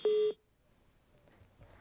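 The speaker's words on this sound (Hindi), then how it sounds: "लगता फोन कट गया उनका" A telephone line tone sounds once, a single steady electronic beep lasting about a third of a second right after a call drops during a live Hindi news broadcast, followed by near silence with faint low rumble.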